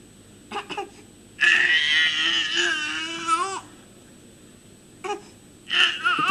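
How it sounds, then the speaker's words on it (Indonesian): An infant wails from a film played aloud during a Sunday church sermon. Short whimpers come first, then a long, rising cry, and after a pause more brief sobbing bursts follow, heard clearly in a quiet room. "ini suara bayi nih."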